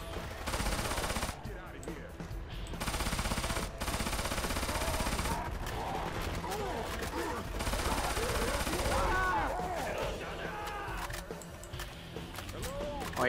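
Dense gunfire in the zombie shooter Left 4 Dead 2 during a gauntlet run, loud rapid bursts and volleys filling most of the stretch with players shouting over it.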